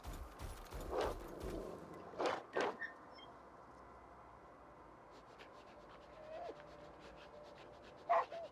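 Dogs in S.T.A.L.K.E.R. 2: Heart of Chornobyl give a few short barks and yips near the start, then whimper and scratch faintly through a quiet stretch, with a sharp yelp near the end.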